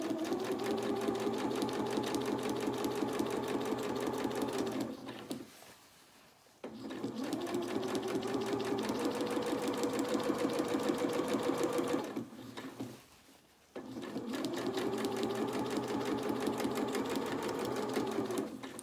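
A sewing machine stitches the seam of a small doll's dress in three long steady runs, each a rapid even whir of needle strokes, broken by short pauses as the fabric is turned.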